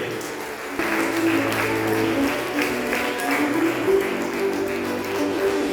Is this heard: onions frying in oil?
no